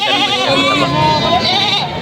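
A Boer goat, a breeding doe on a farm with fullblood Boers, bleats loudly and continuously at close range, the wavering cries running through the whole moment.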